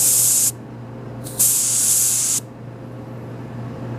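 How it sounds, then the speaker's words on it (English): Refrigerant vapor hisses sharply out of the float chamber of an antique General Electric CJ-1-C16 refrigerator in two short bursts, the second lasting about a second, over a low steady hum. "I just want to let out a little bit of vapor"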